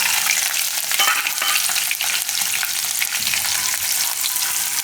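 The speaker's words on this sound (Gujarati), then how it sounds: "હવે એમાં આપણે નાખી દેવું આ સિંગદાણા." Peanuts frying in hot oil for a Gujarati sweet potato farali dish, a loud, dense, steady crackling sizzle close to the pan with faint stirring underneath and no voices.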